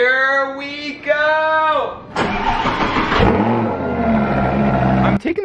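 A Lamborghini car engine fires up and revs hard, a loud close roar rising and falling after an opening stretch where people talk.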